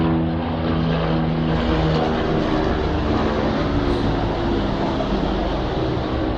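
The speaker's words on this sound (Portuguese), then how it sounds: "esperar o avião passar" A propeller airplane passes overhead as a loud, steady engine drone with wavering tones that fills the whole stretch. It is heard near a home garage and no one speaks.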